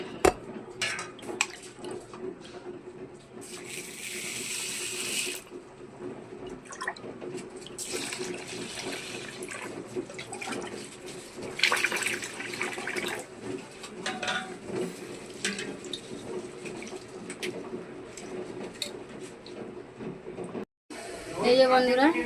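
Biryani rice being washed in a kitchen sink: running tap water splashes and swishes, with occasional clinks of a pot and utensils, while a person talks over it.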